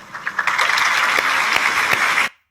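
Crowd applause plays back from a video, a broad, even wash of clapping and cheering that holds steady for about two seconds, then cuts off abruptly.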